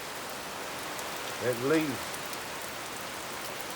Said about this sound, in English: I'd have to say it's rained 7 or 8 inches already.